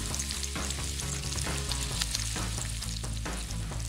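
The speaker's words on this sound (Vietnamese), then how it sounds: "Mang những chiếc nem chiên trong chảo ngập dầu, chẳng mấy chốc nem sẽ vàng ươm như thế này đây." Spring rolls deep-frying in a pan filled with oil give a steady, close crackling sizzle that runs unbroken under music.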